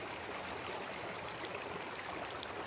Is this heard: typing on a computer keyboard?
no